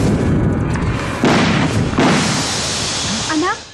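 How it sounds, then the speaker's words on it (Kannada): In a Kannada film scene, two car tyres burst with two loud, sharp bangs a moment apart, followed by quieter background sound. "ಒಂದೇ ಟೈಮ್ನಾಗ 2 ಟೈರು ಪಂಚರ್ ಆಗ್ಬಿಟ್ಟದೆ"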